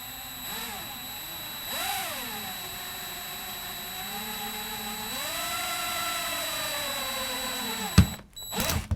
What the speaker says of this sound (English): So bring our handy-dandy DeWalt in here.